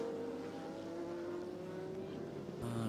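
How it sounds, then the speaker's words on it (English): Race cars at the 2002 American Le Mans Series round at Laguna Seca, among them an Audi, drone steadily with a falling engine pitch at a distance, then a sharper engine note cuts in near the end. "Frank Biela is looking quite sweet and comfortable in that Audi."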